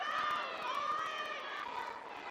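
Young girls from a youth league cheer at a girls' varsity high school basketball game, a steady high-pitched chorus of shouting and cheering voices from the gym crowd.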